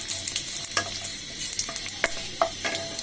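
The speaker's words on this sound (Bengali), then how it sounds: "এবার আমি এতে পাঁচফোড়ন ছেড়ে দিব।" Panch phoron spices frying in hot oil for a vegetable dish, a dense crackling sizzle with sharp clicks and scrapes of a spoon stirring, close and steady with no talk.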